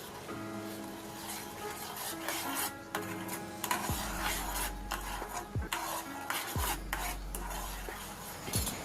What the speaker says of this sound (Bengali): হালকা হাতে নেড়ে নেব যতক্ষণ না চিনিটা গলে যাচ্ছে